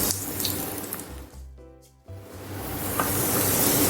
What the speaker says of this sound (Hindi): यहाँ पैन में मैं हाफ़ कप ऑयल डालूंगी। यहाँ पर 2 अदद मैंने प्याज ली है और प्याज को हम फ्राई करेंगे सुनहरा होने तक।